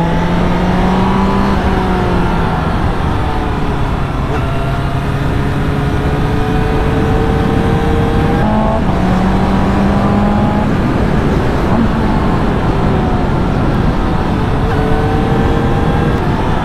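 Four-cylinder A2-class motorcycle engine heard while riding, a steady loud drone with rising and falling revs through shifts, close and continuous for the whole stretch, no voices.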